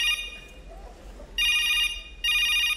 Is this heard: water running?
no